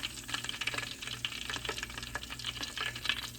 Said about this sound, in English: So now I'm about to fry it.